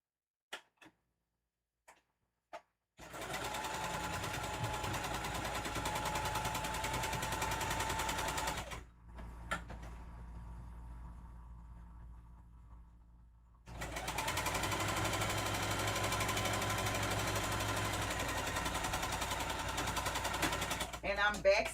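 A sewing machine back stitches a seam on a puffy Halloween tote bag: a few isolated clicks, then a sustained close, rapid whir, a brief pause with slower stitching, and another long steady run.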